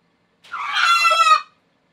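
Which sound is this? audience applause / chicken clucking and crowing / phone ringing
chicken clucking and crowing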